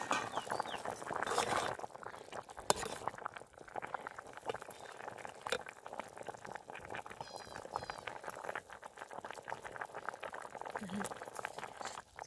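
A pot of country toor dal with drumstick pods bubbles and simmers steadily, with soft popping and gurgling close by under faint background noise.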